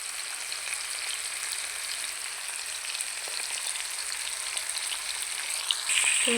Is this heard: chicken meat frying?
yes